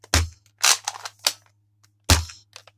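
Nerf Modulus Iron Fire toy blaster being cocked and fired up close: a sharp plastic snap, a cluster of rattling clicks and slides, then a pause and another loud snap, no talking.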